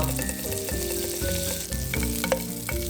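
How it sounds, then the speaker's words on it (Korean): Bread toasts in a frying pan greased with butter, giving a steady, close sizzle with light scraping touches throughout and no voices. "노릇하게 구워지면 다시 프라이팬에 버터 또는 식용유를 발라주세요."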